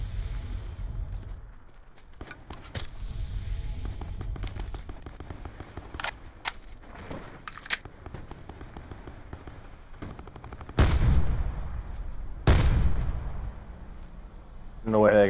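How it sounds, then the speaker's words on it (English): Gunfire in the Call of Duty Blackout video game: repeated sharp gunshots and bursts scattered through the clip, including two louder close shots near the end, with a voice talking over the game's background. "there's somebody else shooting up here"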